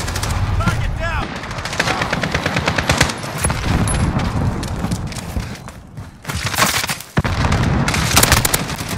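Dense, loud bursts of automatic gunfire and single shots from Call of Duty Modern Warfare Team Deathmatch, with booms and rattling fire running almost without pause, under in-game voice callouts.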